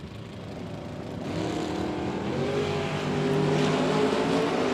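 A 68 Camaro and an Anglia launch side by side at a bracket drag race, their engines a rough roaring rumble that builds gradually in loudness from a moderate distance.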